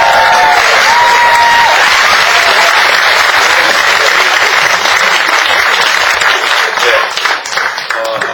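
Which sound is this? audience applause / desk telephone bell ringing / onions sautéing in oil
audience applause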